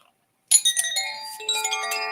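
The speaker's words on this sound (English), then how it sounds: "let's let the chimes take us into a good energy" Chimes ring after a moment of silence, several bright metallic strikes layering into sustained, shimmering tones that overlap and slowly fade, close and clear with no talking.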